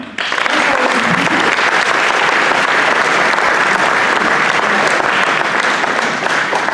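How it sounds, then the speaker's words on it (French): Audience at a graduation ceremony applauding loudly and steadily, a dense wash of many hands clapping for several seconds with no talk over it. "vous pouvez l'applaudir"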